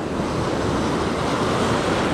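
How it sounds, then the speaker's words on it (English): Ocean waves break on the beach at Mission Beach, San Diego, during surf fishing, heard as a continuous, loud, washing roar mixed with wind buffeting the microphone. "You see the waves snap over, the current's going out"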